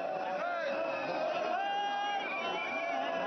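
A dense crowd of pilgrims packs the riverbanks at the Ardh Kumbh Mela, a steady roar of overlapping voices and chatter with many people calling out at once.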